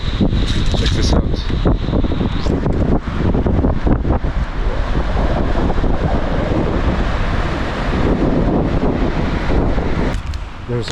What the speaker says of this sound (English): Welcome at the Magod Waterfall.